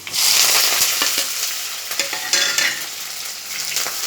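Chopped onion and curry leaves are sautéed with garlic in hot oil, making a loud, continuous sizzle broken by repeated scraping stirs of the spoon close by.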